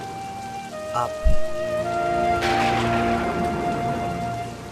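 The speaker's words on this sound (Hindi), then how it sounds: "यहाँ पर बहुत तेज बारिश हो रही है" Heavy rain hammers down steadily, broadband and loud, while a held musical tone sits underneath and a thump lands early on. A brief spoken word breaks in near the start.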